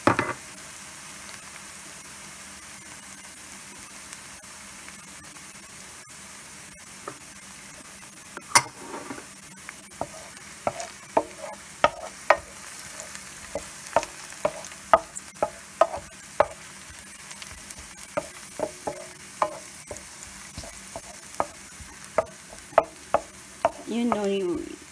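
Garlic frying in a pan for rice stick noodles (bihon), a steady low sizzle broken by scattered clicks and scrapes of stirring, close and fairly loud with no talking.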